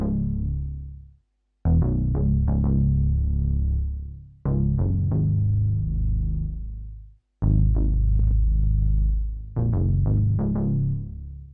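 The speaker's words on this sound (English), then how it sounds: "So next thing is this bass, and it sounds like this." Deep synth bass line from a dark ambient beat made in FL Studio, following root notes in four punchy phrases of quick repeated hits with decaying tails and short gaps between, alone without voices.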